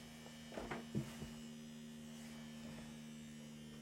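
A giant Joule Thief motor spins a ball magnet, giving a steady electrical hum and buzz with a few brief clicks and rattles near the start.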